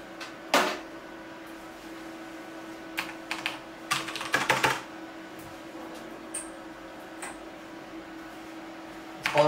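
Keys on a computer keyboard tapped in scattered bursts at a budget PC build bench, sharp clicks clustered together over a steady low hum, with quiet gaps between.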